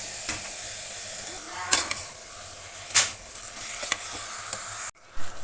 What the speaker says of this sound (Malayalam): ഇനി നമുക്ക് ബീഫ് ചേർത്ത് കൊടുത്ത് നന്നായി മിക്സ് ചെയ്യാം.